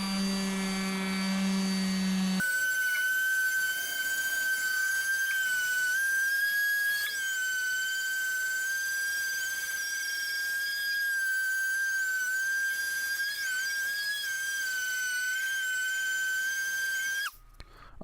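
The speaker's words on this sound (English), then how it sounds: "I went back to the sandpaper to finish the top, and I did one whole pass with the 80 grit and another with the 180 grit" A power sander runs sandpaper of 80 and 180 grit across a cast iron table saw top, giving a steady high-pitched whine that holds for a long stretch before cutting off abruptly.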